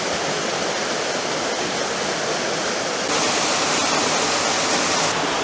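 A waterfall in the Fratarica gorge, with a drop of about 57 metres near Log pod Mangartom, roars as a constant loud wash of falling water, unbroken throughout and growing slightly stronger partway through, with no voices.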